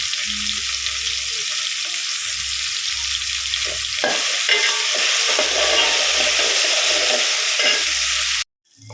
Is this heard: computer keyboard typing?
no